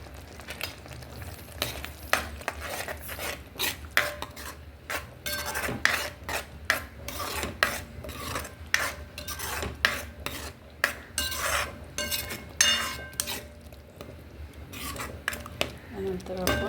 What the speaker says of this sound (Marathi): त्यानंतर एक चमचा आलं लसूणची पेस्ट टाकूया.